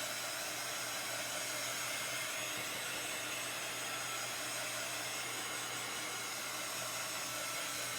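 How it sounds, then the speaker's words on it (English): A small heat tool blows steadily while drying chalk paste on a magnetic board, giving a continuous airy whirring hiss that stays even and unbroken throughout, close by with no talking. "I'm just going to take this little heat tool to do some drying."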